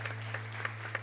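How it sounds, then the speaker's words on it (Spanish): Applause from a church congregation during a Spanish-language worship service: a brief burst of steady, mid-distance clapping with a few sharper claps standing out, over a low constant hum. "¿Qué le parece si le damos un fuerte aplauso a nuestro Dios?"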